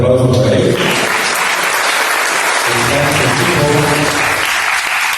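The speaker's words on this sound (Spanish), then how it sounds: "un fuerte aplauso para él." Loud, steady applause from a crowd honoring a chef at a cooking event on ancestral cuisine, with voices briefly audible over the clapping.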